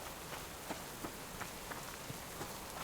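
Steady rain in the survival video game Subsistence, a soft, even hiss of drops falling on surfaces with faint scattered patters, heard alone at low level.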